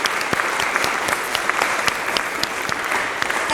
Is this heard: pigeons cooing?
no